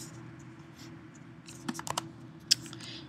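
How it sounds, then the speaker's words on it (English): A few quick, faint key taps on a computer keyboard while names are typed into Google Docs, clustered near the end over a quiet background hum, with no talk. "If I wanted to add people, all I'd have to do is type in their names"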